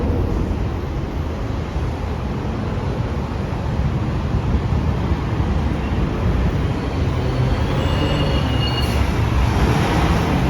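An elevated train in New York rumbles past in a loud, continuous roar of wheels and rails that holds steady throughout, with no voices.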